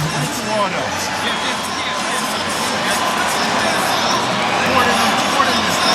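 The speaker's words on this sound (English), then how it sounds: "There's a lot of boos for Saul Alvarez, who's up there celebrating as though he's won it" Large boxing arena crowd at the Canelo Alvarez vs Gennady Golovkin 2018 rematch, booing the verdict in a loud, sustained roar that fills the whole stretch without letup.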